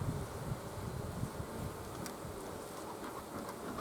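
Honey bees in an open hive being worked by a beekeeper, their restless buzzing forming a steady low hum that fills the whole stretch without a break, close and moderately loud.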